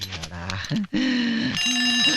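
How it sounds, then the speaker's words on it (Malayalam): An alarm clock rings loudly and continuously in a Malayalam film scene, a bright metallic ringing that cuts in after a brief pause and keeps going, close and insistent, with a short voice-like sound at the start. "അലാറം."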